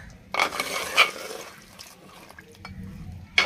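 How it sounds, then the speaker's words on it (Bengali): A ladle or spoon stirring chicken handi in a pot, giving a few soft scraping clinks and wet splashes, close and quiet, with no talking. "আমি আপনাদেরকে এবার নেড়ে দেখাচ্ছি একটু তুলে।"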